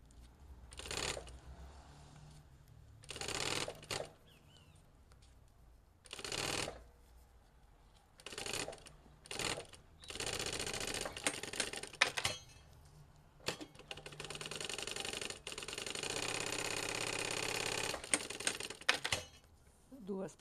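A sewing machine stitches synthetic fabric for a backpack in short bursts of rapid mechanical clatter separated by pauses. It ends in a longer continuous run, and a voice speaks quietly between the bursts.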